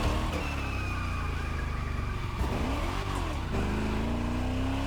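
Widebody Chevrolet Chevelle muscle car in The Crew Motorfest, its engine roaring up close with a heavy low rumble, dipping briefly as it shifts gears and then revving again.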